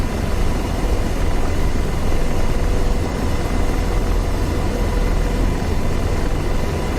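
AH-64D Apache helicopter taking off in DCS World, a loud, steady engine and rotor roar filling the whole stretch without a break, close and continuous with no speech.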